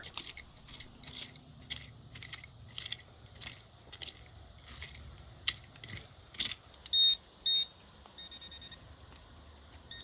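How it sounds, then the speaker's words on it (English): A metal detector sweeps the edge of a disturbed patch of ground at an artifact site, giving several short, clear electronic beeps late on, with faint clicks and rustles before them and no talk. "Using his metal detector, Kenny moved around the perimeter of the disturbed area just to show us how many artifacts can be found there"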